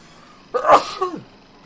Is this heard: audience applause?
no